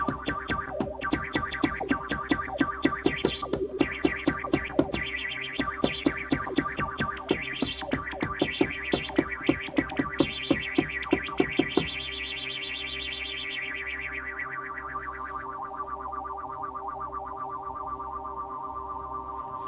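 An Emu Command Station MP7 synth plays a rapid sequence of distorted, chirpy notes washed in reverb, then settles into a sustained, fading tone after about twelve seconds.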